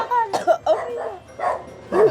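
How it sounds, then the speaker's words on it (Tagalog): Dogs at a house bark in a quick series of sharp, close, loud barks and yips, several bursts in about two seconds, with no talking over them. "Kaya pala nagingay yung mga aso, no?"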